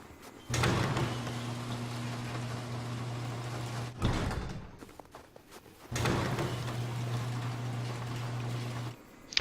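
Several doors in the survival game Rust slide open and shut in turn, triggered by a single sensor, each movement a steady mechanical hum lasting a few seconds with clunks at start and stop, heard alone.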